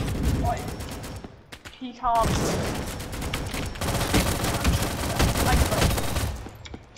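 Rapid-fire P90 in the video game Recoil, fitted with an extra barrel and a 101-round magazine, rattles off long dense automatic bursts that keep going across most of the stretch, with a brief voice speaking near the start.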